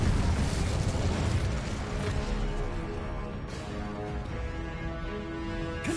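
An Incendio fire spell is cast in Hogwarts Legacy, giving a loud roaring burst of flame that rumbles continuously for several seconds with dense crackling texture and no voices.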